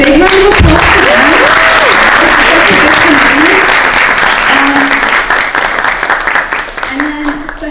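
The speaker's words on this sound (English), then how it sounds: "So big round of applause to them." Audience at a Kathak recital breaking into loud, dense applause that fills the room and then gradually thins out, with a voice speaking over the clapping.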